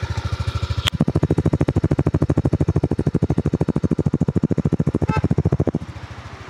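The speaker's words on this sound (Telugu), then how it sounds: "బ్రేక్ ప్రెస్ చేసి ఇంజన్ స్విచ్ని ఆన్ చేస్తే ఇంజన్ అనేది స్టార్ట్ అయిపోతుంది. చూడొచ్చు మీకు ఒకసారి సౌండ్ అనేది వినిపిస్తాను" A 2025 Yamaha Aerox 155 version S scooter starts up with a brief crank, then settles into a steady, close, rhythmic idle thump that runs several seconds before cutting off near the end.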